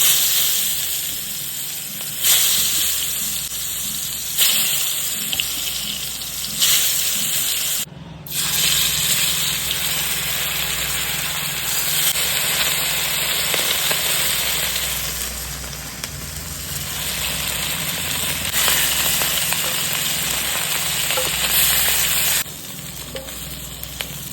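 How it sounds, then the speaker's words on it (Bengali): Eggplant slices fry in mustard oil in a kadai, giving a continuous close sizzle and hiss with brief pauses and bursts as pieces are moved; no talking. "তো আমরা দিয়ে দিলাম বেগুন ভাজাটা"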